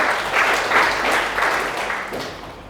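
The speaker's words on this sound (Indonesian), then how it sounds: "Kasih tepuk tangan untuk Tuhan." Congregation applauding in a church, a steady wash of many hands clapping at close range that swells briefly and then slowly tapers, with no voices over it.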